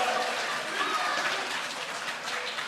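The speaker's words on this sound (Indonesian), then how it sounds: "kita berikan apresiasi dan tepuk tangan yang meriah untuk ketiga pasangan calon" A debate-hall audience applauds the three candidate pairs at an opening regency election debate in Klungkung, a dense, steady wash of clapping sustained throughout.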